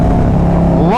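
Harley-Davidson Road Glide motorcycle engine revving loud and close, a heavy steady drone whose pitch climbs sharply at the end as the throttle opens.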